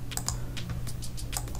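Rapid clicks and key presses on a computer keyboard and mouse while working in ArtCAM 2008 design software, close and crisp over a low steady electrical hum.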